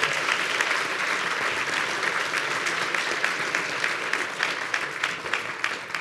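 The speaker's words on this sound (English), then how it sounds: "A round of applause for being here." An audience at a Toronto sales event applauds a panel, steady many-handed clapping with a few louder individual claps standing out near the end.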